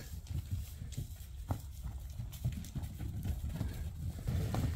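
A group of foals being driven along makes a steady patter of hoof clip-clops over a low, busy rumble of movement, close by, with no clear speech.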